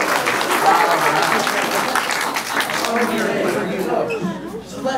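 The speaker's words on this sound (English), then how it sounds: "everyone just clap" A classroom-style audience claps together on cue, busy overlapping hand claps mixed with chatter and voices talking throughout.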